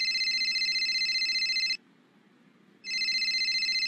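A telephone rings in two loud electronic bursts of rapid trilling, separated by about a second of quiet, close by and with no voices.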